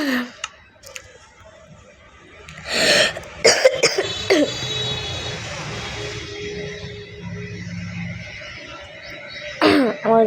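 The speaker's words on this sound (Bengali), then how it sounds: "আমার কাশি হয়েছে একটু" Several harsh coughs and throat-clearing bursts from a person with a slight cough, clustered in the middle and near the end, close and fairly loud in a quiet indoor room.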